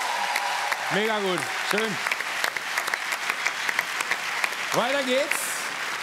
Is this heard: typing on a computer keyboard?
no